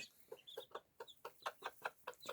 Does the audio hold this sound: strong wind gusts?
no